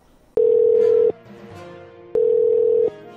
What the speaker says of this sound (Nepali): त्यसपछि मेरो मोबाइलमा सुस्मिताको फोन आयो यार।